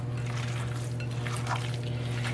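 Ground meat for bacon-stuffed cheeseburgers is squished and mixed by hand in a bowl, producing soft, close, irregular squelching and faint scraping over a low steady hum, with no talking.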